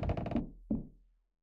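Knocking on a front door in a horror video game, a cluster of quick raps followed by a single louder knock, close and alone with no talk.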